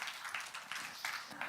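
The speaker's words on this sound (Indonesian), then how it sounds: "Tepuk tangan yang meriah buat Tuhan kita." A church congregation claps in a steady rhythm during worship, a soft, evenly spaced pattern of hand claps heard at a moderate distance.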